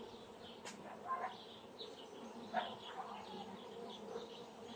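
Honey bees humming steadily around a hive at dusk on a cloudy evening, a faint continuous drone with a few brief louder passes close by, no voices.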